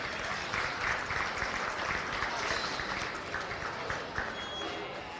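Applause for exhibitors at a county fair goat show, a steady, moderately distant crowd clapping continuously throughout, without talk over it.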